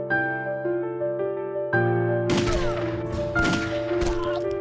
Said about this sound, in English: The woman fired 2 more quick shots while running.